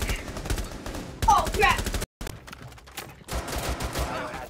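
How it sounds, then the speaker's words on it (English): Rainbow Six Siege gunfire: dense rapid automatic shots run through most of the few seconds, broken by a brief silent gap, close and loud, with faint voices mixed underneath. "I almost shot you."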